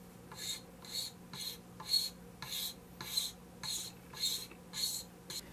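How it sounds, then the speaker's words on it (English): A scraper is drawn repeatedly along the binding of a Stewart MacDonald guitar kit body, making about ten evenly spaced rasping strokes, close and fairly quiet, with brief pauses between each. "Okay, I got my binding scraped."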